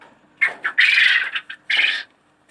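Pet quails calling at night, a series of loud, close squawking bursts in quick succession with short gaps between them.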